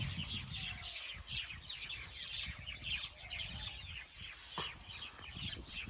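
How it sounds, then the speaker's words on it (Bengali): Birds in a tree chirp and twitter busily overhead, a dense overlapping chorus of high calls over low rustling wind, with no voices. "পাখিগুলো বন্ধুরা অনেক কিচির মিচির করছে তোমরা শব্দটা একটু শুনো"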